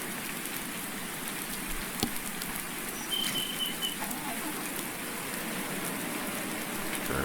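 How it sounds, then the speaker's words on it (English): Steady rain in the Farming Simulator 19 game, a continuous even patter across the whole stretch with a few faint bird chirps briefly rising above it. "So I can hear the rain now."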